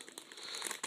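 A plastic parts bag from a LEGO Technic 42042 crawler crane set crinkles as it is opened, giving close, quiet bursts of rustling that come and go over under a second.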